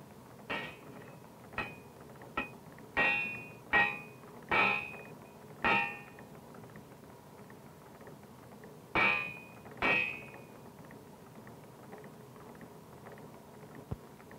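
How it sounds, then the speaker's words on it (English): Hammer blows strike a welded steel tire being forced over a wooden wagon wheel in a wheel works shop, about a dozen sharp metallic clangs in irregular clusters with ringing overtones, close and loud, no talk. "If the fit is tight, the workman resorts to the hammer."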